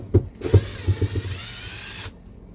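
Impact driver whirring and hammering as it backs screws out of a boat's diesel fuel tank, starting with a few sharp knocks and then a steady buzzing run of about two seconds, loud and close with no talk.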